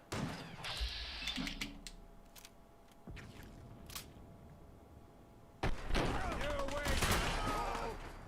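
Gunfire in the video game Fallout 4: sharp shotgun blasts and bursts of shooting crackle loudly in scattered clusters over a rumbling game soundscape, with a louder sustained barrage near the end.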